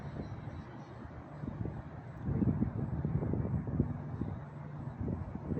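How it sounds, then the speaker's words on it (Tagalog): Strong dust-laden wind in Riyadh roars and buffets the microphone with low rumbling gusts that grow louder halfway through, steady and close. "Ang lakas pa ng hangin."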